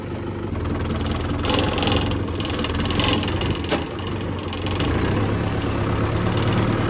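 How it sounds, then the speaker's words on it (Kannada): A Mahindra Yuvo Tech Plus 475 DI tractor with a four-cylinder diesel engine idles close by, producing a smooth, steady low rumble with a faint rhythmic knock and no speech over it. "ಮಹೇಂದ್ರ ಸೌಂಡು ತುಂಬ ಸ್ಮೂತಾಗಿ ಬರೋ ಕಾರಣ ಇದು 4 ಸಿಲಿಂಡರ್ ಇಂಜಿನ್"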